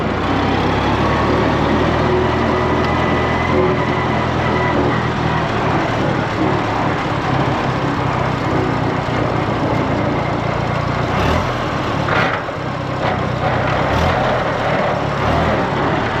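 Engine of a Volkswagen Beetle held steady by its governor, a loud, continuous droning hum that holds an even pitch throughout with no revving.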